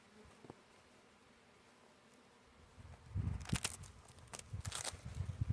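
Bees hum around an opened beehive during an inspection of two combined hives. The buzzing starts faint and swells into a close, louder drone after a few seconds.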